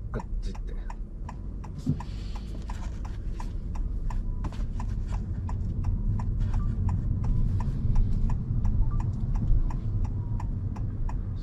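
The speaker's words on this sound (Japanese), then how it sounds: "このウインカーの音ちょっとでかいですね" A steady, loud clicking of a Honda Civic e:HEV turn signal ticks in even rhythm over a low cabin hum.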